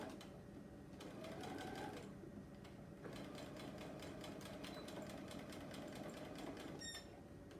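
A sewing machine stitches a quilt square in a steady, fast mechanical whir with a continuous rhythmic drone, briefly pausing near the middle before running on; close and loud, with no talking.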